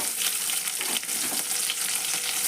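Onions and red chillies fry in oil for shavige upma, a dense, even sizzle and crackle heard up close without pause.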